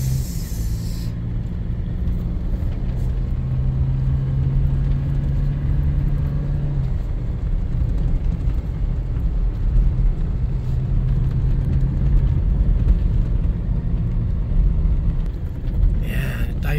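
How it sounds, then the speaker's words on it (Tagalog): A big truck on a narrow, sloping village road rumbles with a steady engine drone and a low hum for a long stretch, with a voice speaking over it. "Truck na dakula. Truck na malaki."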